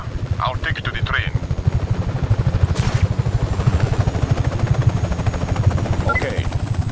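A helicopter flies in the video game Just Cause 3, a steady close rotor thump that continues throughout, with brief voices and clattering effects over it.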